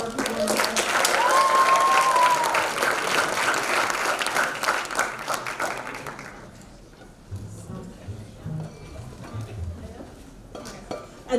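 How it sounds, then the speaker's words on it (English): Audience at a university thesis competition applauds steadily for several seconds with a whistle, then the clapping thins out to scattered claps and quiet room murmur. "Join me in one final applause for our performance."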